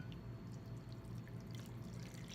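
Lye solution for cold process soap is poured gently into soap oils, a soft continuous liquid trickle heard faintly and alone with a little splashing texture.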